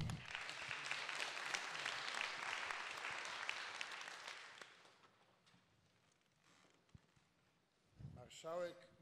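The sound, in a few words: audience applause for marshal Witold Kozłowski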